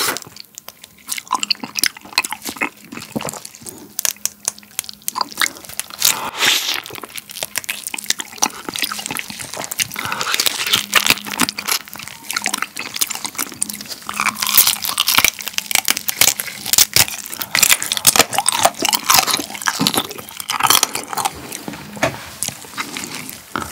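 Close, wet crunching and chewing of soy-marinated raw crab, with juicy slurps and crackly bites repeating steadily and loudly, with no talking.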